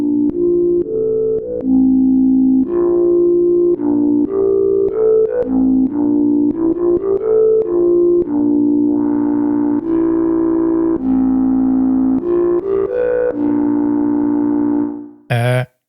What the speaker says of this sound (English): this is just with, you know, a sine wave and just modulating the overdrive